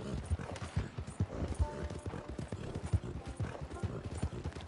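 Horse hooves clip-clopping in a video game, a steady rhythmic series of hollow hoof knocks at a moderate walking pace, fairly faint, with faint talk in the background.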